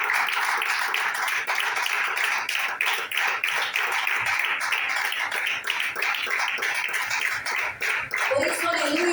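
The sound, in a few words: congregation clapping hands in church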